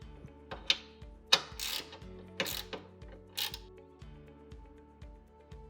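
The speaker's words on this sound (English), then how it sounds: "I'm going to use a 10mm socket wrench and loosen the tilt bolt mechanism" A 10mm socket wrench loosens the tilt bolt on a TV wall mount, producing a close series of sharp ratcheting clicks and metallic clunks in an irregular rhythm, with quiet pauses between the turns.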